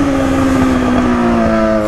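A Yamaha XJ6 motorcycle engine runs loud and close, holding a steady, droning revving tone for a couple of seconds with no voices over it.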